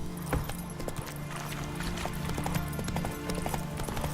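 A horse's hooves clop rapidly and steadily in The Witcher 3 on PS5, close and continuous in a galloping rhythm, with faint background game sound and no talk.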